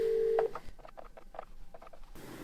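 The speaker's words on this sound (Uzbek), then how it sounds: "Telefon qilib ko'ramiz." A telephone dials a number: a single tone at the start, then a quick series of short dialing beeps in an uneven rhythm, faint and alone.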